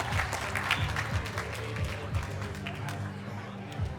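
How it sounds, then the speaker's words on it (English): Crowd at a charity gala claps in a final round of applause, moderately loud and uneven, with voices and low thumps mixed into the clapping. "give yourselves one final huge round of applause"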